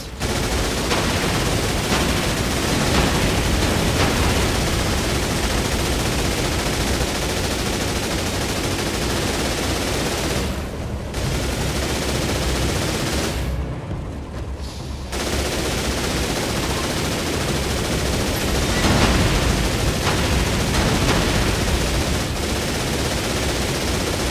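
Sustained gunfire from warships in the Xbox 360 naval game Aqua, a dense rattling barrage of rapid shots that carries on almost without pause, briefly dropping out twice before resuming loud and continuous.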